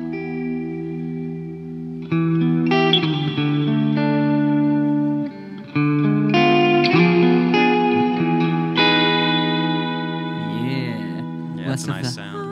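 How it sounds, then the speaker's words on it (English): Sustained guitar notes swell through the dark, cavernous Abyss reverb mode of an EarthQuaker Devices Astral Destiny pedal, long washy tails blending chords together, played alone and fairly loud. "So some darker reverb tones."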